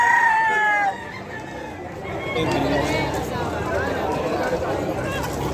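A rooster crows loudly once at the start at the Malabon pet market in the Philippines. Chatter and crowd noise from the busy market carry on beneath and after it.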